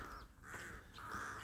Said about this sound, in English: I think they're ravens.